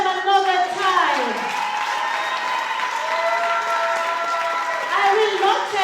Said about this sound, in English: Clap them another time.